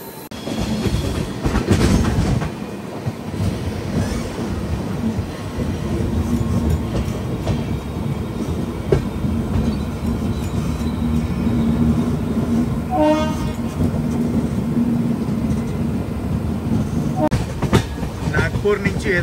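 The Telangana Express pulls out near Nagpur, heard from a passing train as a continuous loud rumble and wheel clatter with brief horn toots midway and faint background voices.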